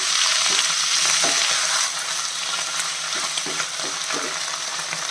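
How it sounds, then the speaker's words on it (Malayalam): Moringa leaves and shallots sauté over medium flame, with a loud continuous sizzle and occasional spatula stirs and scrapes against the pan. The sound is alone, with no voices. "ഈ മുരിങ്ങയില ഒരു മൂന്ന് മിനിറ്റ് വരെ മീഡിയം ഫ്ലെയിമിൽ വെച്ചിട്ട് വഴറ്റണം"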